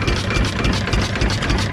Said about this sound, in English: So it's running good. This is 7-horse V8 diesel,